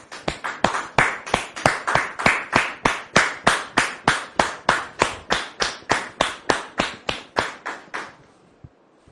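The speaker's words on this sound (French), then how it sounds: "merci de recevoir maintenant Ruth sous vos applaudissements, s'il vous plaît." A single person clapping for a guest arriving in a studio, about thirty evenly spaced claps in a steady rhythm over eight seconds, then stopping, with no crowd applause.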